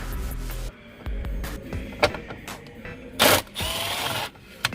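A ratchet working 10 mm bolts loose from the dash panel of a 2005 Toyota 4Runner, close-up bursts of clicking ratchet turns mixed with handling knocks and rustles.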